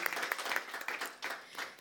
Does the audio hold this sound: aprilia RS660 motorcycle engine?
no